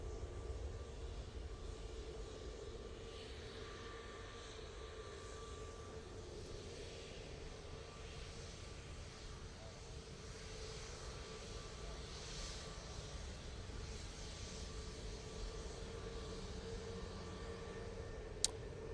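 A Ryanair jet airliner departing for Lisbon from Manchester Airport, its engines making a steady, distant roar that holds evenly at low level with no talk.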